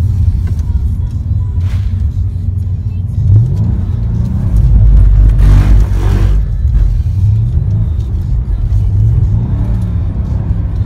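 A Mercedes-AMG car slides across a skid pan coated with a slippery silicone compound, its engine loudly revving up and easing off in surges over a rumbling drone.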